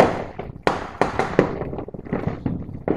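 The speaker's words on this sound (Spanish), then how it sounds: "año tuvieron muy buenos petardos" A string of firecrackers goes off at Christmas, sharp irregular bangs and crackles popping close by in quick succession, with no voices.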